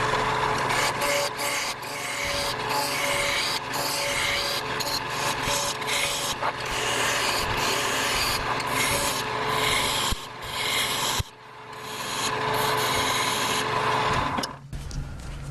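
A wood lathe roughs a base piece for a ring post down to round, giving a steady, close, continuous scraping cut with brief dips near the end and no talking.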